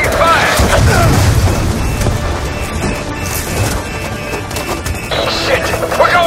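Gunfire and booming impacts in a Call of Duty Black Ops 2 battle, a dense continuous roar of shots and blasts under shouted voices.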